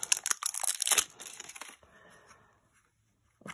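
Packing paper rustles and crinkles as a box of craft supplies is unpacked, a close burst of crackly handling that quickly fades to near silence, with a faint rustle at the very end.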